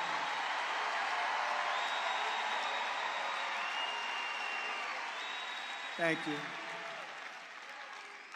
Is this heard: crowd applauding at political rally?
yes